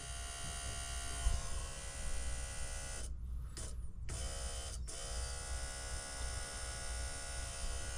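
A steady electric buzz from an electric fuel pump running on a 1966 Ford Fairlane with a 390 FE engine, constant and close with a low hum, cutting out briefly a couple of times before resuming.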